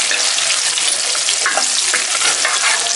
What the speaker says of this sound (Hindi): फिर उस तो बाद आप काजू पा देंगे, इन्हें भी रोस्ट कर लेंगे